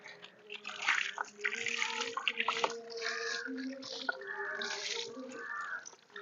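Water runs from a pipe as an animal is bathed, giving a splashing, faucet-like stream throughout. A voice talks over the water for most of the stretch.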